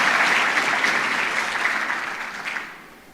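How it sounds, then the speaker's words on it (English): Steady audience clapping at a closing ceremony for a national research fund event, a dense wash of applause that thins and fades out over the last second. "I think clap for him too, really."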